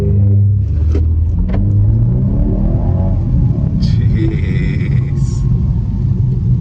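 A 2025 BMW 230i M-Sport accelerates, its engine a loud, close rumble with rising pitch that builds and holds under the cabin, while people inside speak briefly over it.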